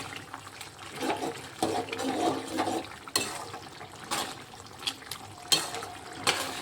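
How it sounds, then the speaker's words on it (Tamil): Bitter gourd thokku gravy boils in a pan, with soft continuous bubbling punctuated by sharper pops and spits at irregular intervals. "நல்லா கொதிச்சுட்டு இருக்கு."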